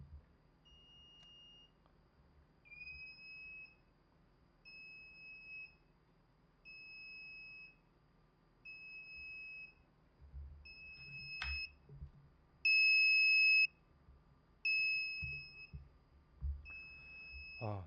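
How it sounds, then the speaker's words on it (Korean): A small piezo buzzer wired to an Arduino beeps in a regular on-off pattern, short even tones repeating about once a second in a quiet room, with faint handling clicks and knocks near the end. "LED 이번에 불이 들어올 때 스피커 부저에서 소리가 나고요."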